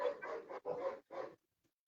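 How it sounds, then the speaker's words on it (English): Dogs barking in the background in three loud, sustained bursts separated by short gaps, ending with a faint yip; no talking. "Sorry about the dogs in the background."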